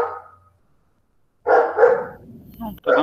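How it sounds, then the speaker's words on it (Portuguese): A dog barks nearby in a series of short bursts, loud and sharp, with a quiet gap between the first bark and the later cluster of barks. "tem um cachorro latindo aqui"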